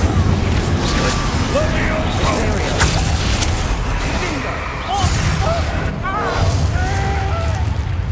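In the Hogwarts Legacy video game, an Incendio fire spell is cast amid combat, with whooshing bursts and booming impacts over dense game noise, and brief voices in between.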